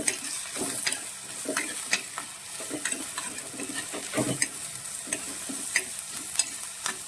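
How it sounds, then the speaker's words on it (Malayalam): Shallots, green chili and kudampuli sautéed in a pan, a steady close sizzle broken by repeated scraping strokes of a spoon stirring, with no talking. "ഈ കുടംപുളിയും കൂടി ഇട്ടാണ് നമ്മൾ ഇളക്കുന്നത് ഇത് നന്നായിട്ട് വഴറ്റി ചേർക്കണം"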